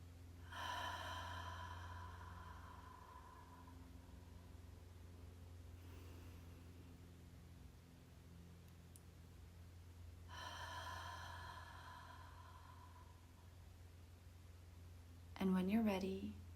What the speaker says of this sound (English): Once more, inhale deeply, hold at the top,